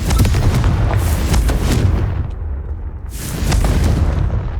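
In Hogwarts Legacy, Confringo spell explosions give two loud, booming bursts separated by a brief lull. Each is heavy, low and rumbling, with crackling debris.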